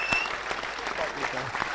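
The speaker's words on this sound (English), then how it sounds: "Can we have a big round of applause and a stand ovation?" Indoor evening audience at a function suite breaking into clapping and cheering for a famous footballer, a dense burst of applause from a crowd with a voice over it.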